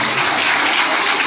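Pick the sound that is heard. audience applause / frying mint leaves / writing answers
audience applause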